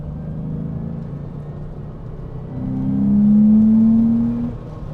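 Rare Porsche, freshly serviced after an engine-out rebuild and warmed up, accelerating on the road: a deep, steady engine rumble rises into a louder, rising rev near the middle, then settles back, heard from inside the car.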